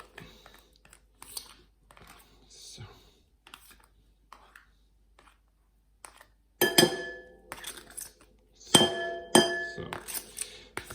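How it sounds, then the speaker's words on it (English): A knife scrapes cheesecake mixture from a container, producing sparse light taps at first, then a run of bright clinks and knocks of metal against glass. "So we'll take our knife and get it out."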